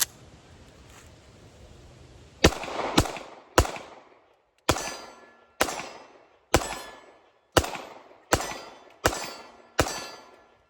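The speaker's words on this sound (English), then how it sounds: "Let's try the LCP Max here. It's been a minute since I've shot this old girl." Ruger LCP Max .380 pocket pistol firing about ten loud, sharp shots at a steady, unhurried pace, each crack ringing briefly before the next, after a few quiet seconds.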